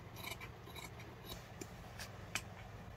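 Scissors snipping through fabric while cutting pieces for an off-shoulder crop top, a series of quiet, close crisp snips spaced irregularly over a low background hum.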